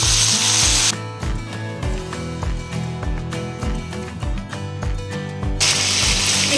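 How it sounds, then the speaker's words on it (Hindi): Curry leaves and ground raw tamarind paste hitting hot tempering oil for imli pickle, sending up a loud bright sizzle that drops into steady crackling bubbling with rhythmic clicking, then flares up loudly again at the end. "थोड़ा करिया पत्ता डाली हूँ मैं इसमें बघार में"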